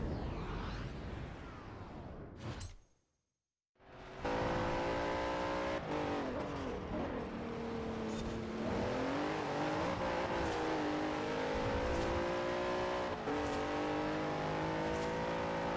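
A car engine roars in Forza Horizon 4, loud and close, with revs climbing and sagging through gear changes after a brief cut to near silence early on, droning continuously with no speech.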